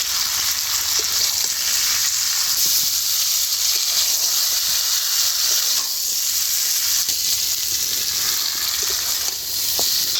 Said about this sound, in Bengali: মশলা আর মাংস এবারে খুব ভালো করে কষিয়ে নেবো একসাথে